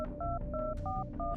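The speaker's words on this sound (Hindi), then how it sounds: "इस बीच उसने अपना फोन निकाला और सीधा देवेन को फोन मिला दिया।" A phone keypad is dialed, giving five short touch-tone beeps in quick, even succession, clear and fairly quiet.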